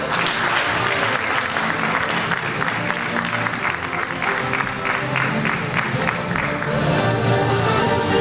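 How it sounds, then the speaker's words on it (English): A crowd at a cryptocurrency expo in Malaysia gives sustained, dense applause to welcome a speaker onto the stage, the clapping steady and even throughout. "let's give a big round of applause to welcome Miss Christina Bunyawata Namisu"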